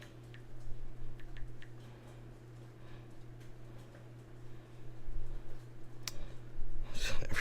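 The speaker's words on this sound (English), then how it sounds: "might hear some clicking" Soft, scattered clicks tick at irregular intervals against a quiet background, building to a denser cluster of sharper clicks at the end.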